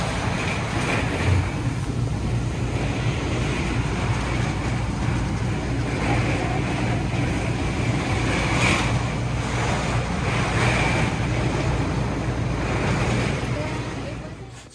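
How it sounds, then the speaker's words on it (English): Strong storm wind blows at an RV resort on the Texas coast at Freeport, a loud, continuous roar with gusty surges and buffeting against the microphone from start to finish. "It was getting wild. It's windy."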